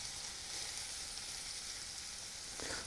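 Savoy cabbage sizzles in foaming butter in a pan, a faint steady hiss with a brief stir near the end.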